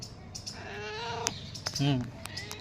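A pet cat in a home gives a long drawn-out meow followed by a shorter, higher cry. The sounds are close and fairly loud, and someone talks around them.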